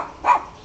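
A small female dog gives a single short, sharp bark, close and loud, alone over quiet room background.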